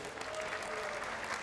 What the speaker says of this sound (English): Round of applause for both of these men